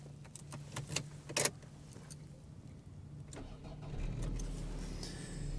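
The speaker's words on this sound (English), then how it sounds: "So if we go ahead and turn the car on," Keys rattle and click in a rare Japanese-market all-wheel-drive Toyota Camry V40, then a soft crank rises into a quiet, steady idle in the cabin.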